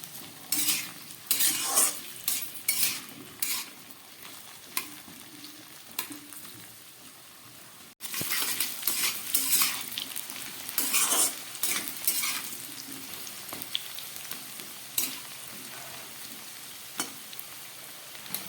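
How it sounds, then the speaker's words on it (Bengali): Potatoes and chopped papaya fry together in a pan, sizzling under repeated bursts of stirring and scraping with a utensil against the metal, close and irregular, with a short pause midway. "আলুগুলো একটু হালকা ভাজা হয়েছে, এবার আমি এর মধ্যে দিয়ে দেবো, একই সঙ্গে ভেজে নেবো এই পেঁপে।"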